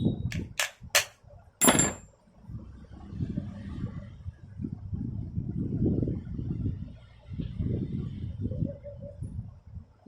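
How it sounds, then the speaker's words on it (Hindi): A few light hammer taps on a table fan's shaft and bush ring out sharply at the start, followed by low rumbling handling noises and faint movement. "अब हल्का ठोक लें।"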